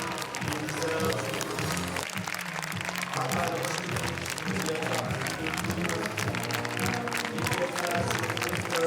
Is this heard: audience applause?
yes